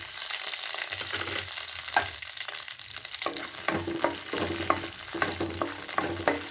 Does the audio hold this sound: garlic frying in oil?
yes